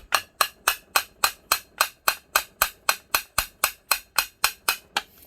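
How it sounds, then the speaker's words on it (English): A hammer taps a rusted, stuck shaft in a Kubota KV100 / Trail Boss hi-low gearbox, about twenty sharp metallic blows in an even, steady rhythm, close and loud with no voices. "So I'm putting pressure up here and I'm tapping on this side."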